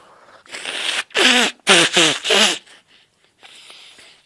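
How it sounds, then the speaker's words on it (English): Someone blows their nose hard several times in quick succession, close and loud bursts of air, followed by softer sniffling. "Blow my nose."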